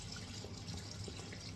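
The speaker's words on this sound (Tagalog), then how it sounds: "Ngayon, lagyan ko na lang yung tubig mainit." Hot water is poured into a pot of pork kare-kare, a faint, continuous trickling and splashing of liquid with no talking.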